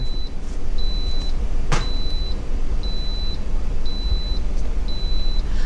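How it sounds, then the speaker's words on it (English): An Instant Pot electric pressure cooker gives a series of short, evenly spaced electronic beeps, about six in a row, when done cooking, over a steady low rumble and hiss. "The beeping is indicating that it is done cooking."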